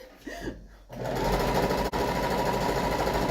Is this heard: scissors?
no